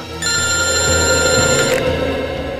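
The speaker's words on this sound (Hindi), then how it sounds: "हॉस्पिटल से फोन है।" A telephone bell rings loudly and steadily for about a second and a half, with no voices over it, then stops abruptly.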